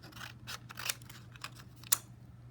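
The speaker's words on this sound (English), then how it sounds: "Then I'm gonna cut." Scissors snipping through card stock in a card-making class, a series of crisp separate cuts close up, with one sharper snip near the end.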